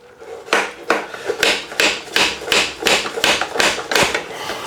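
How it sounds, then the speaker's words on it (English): Nine metallic strikes from a slide hammer used to free a stuck carbon bicycle seatpost, in a steady rhythm, each preceded by a brief sliding rasp, loud and close, with nothing else around. "so you basically pull this up and hit it against here, and it acts as a hammer"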